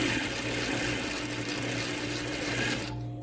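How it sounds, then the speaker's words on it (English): Sewing machine running continuously while sewing a ruffle with a long stitch length and a quarter-inch seam allowance, a fast, even mechanical whir and rattle up close that cuts off near the end. "I'm going to sew with about a 1/4 inch seam allowance here"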